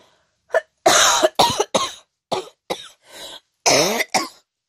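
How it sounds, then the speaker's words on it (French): A person coughs in several harsh, close bursts, one after another with short pauses, ending with a couple of throaty hacks. "Je tousse et j'avale mes cheveux en même temps."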